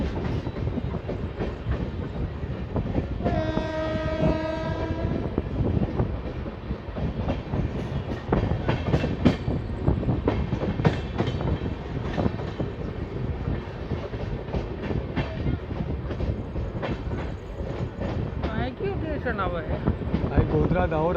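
The Okha-Nathdwara Express runs through Godhra Junction without stopping, its wheels clicking in a steady, close rhythm with a brief horn-like tone early on. People talk under the rolling rail noise.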